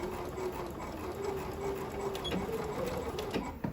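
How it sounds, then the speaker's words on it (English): A sewing machine stitches a seam on a fabric bean bag, a fast steady mechanical whir with a faint tone running throughout and a few clicks near the end, moderately quiet. "Remove it from the sewing machine and now reinforce that seam by stitching it again."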